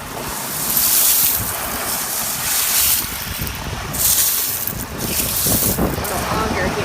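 Tide water washes in over the shore in rolling surges of hiss and splash, close to the microphone with wind noise, as a person talks.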